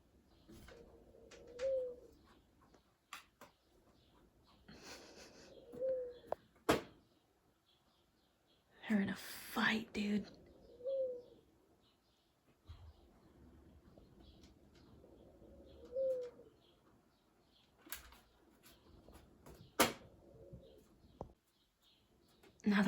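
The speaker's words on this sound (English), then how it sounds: "Pigeon is completely unfazed." Pigeons coo in an indoor room in New York City, a soft rising call repeating every few seconds at moderate distance, with occasional rustling and clatter in between and no one speaking.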